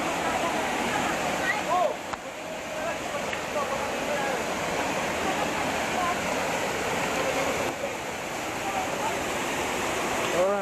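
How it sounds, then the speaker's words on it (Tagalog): Steady broadband rush of water at Maria Angela Falls, a continuous roar filling the whole clip, with a voice talking faintly underneath. "Ito yung falls."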